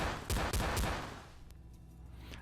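Gunfire in the Oculus Go VR game Mummy Hunter VR, shooting rock spiders: three loud, rapid blasts in quick succession, then a quieter tail with a faint click.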